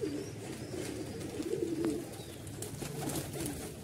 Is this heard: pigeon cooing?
yes